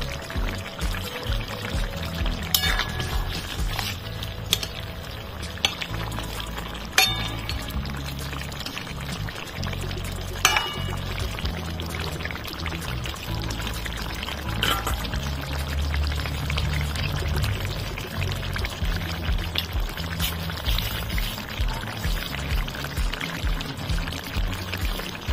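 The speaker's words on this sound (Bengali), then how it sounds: "ভালো করে ফুটিয়ে নেব।" An egg and drumstick curry simmers in a pan, giving a continuous, dense bubbling and gurgling with small pops. It stays steady and fairly close for the whole stretch, with no talking.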